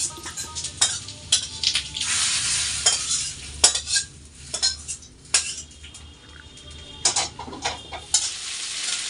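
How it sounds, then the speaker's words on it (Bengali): Soya chunks fry in a pan while being stirred, with repeated sharp metallic scrapes and clinks of a utensil against the pan over a steady low sizzle, close and fairly loud, with no talking. "আমার সোয়াবিন ভাজা হয়ে গেছে এখানে"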